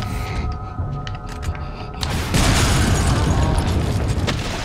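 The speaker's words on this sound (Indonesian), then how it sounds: "Kita coba tembak regeneratornya." An Infinite Bazooka fired at a Regenerator in a video game: after a quieter stretch of game noise, a heavy boom erupts midway and leaves a loud, sustained roaring rumble that carries to the end.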